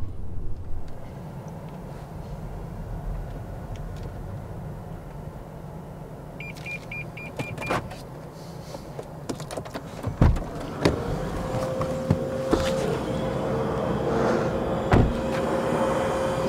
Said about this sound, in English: This car makes so many cool noises when you turn it off.